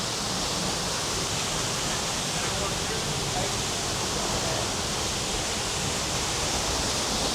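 Steady broadband rush of a waterfall near Goa Gajah temple in Bali, loud, continuous and close, like dense falling water with no pauses.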